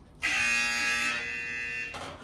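A single harsh electronic game buzzer sounds loud and sustained for nearly two seconds, then a brief second blip follows right after.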